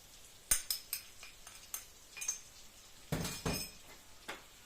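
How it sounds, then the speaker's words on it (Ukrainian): Fried eggplant with spices is stirred in a pan, producing quiet, irregular clinks and taps of a utensil against the pan, with a cluster of louder scraping hits near the end. "І все перемішую."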